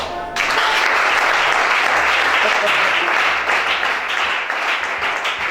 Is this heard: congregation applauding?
yes